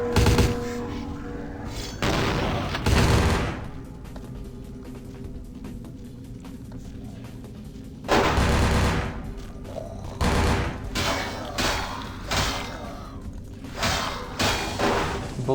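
Gunfire in the game Vampire: The Masquerade – Bloodlines at the Hallowbrook Hotel, several loud bursts and booming shots separated by quieter stretches, with no talk.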